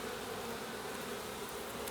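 Honeybees buzz steadily around an open beehive as a brood frame is inspected, a dense, continuous hum close by with no speech.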